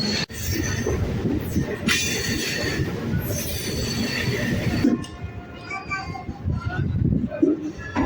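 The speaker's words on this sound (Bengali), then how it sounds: "আর নিচে চলে কিন্তু ট্রেন" A train passes under a road overbridge, rumbling with clattering wheels and metallic squeals, loud and continuous, the roar dropping slightly partway through.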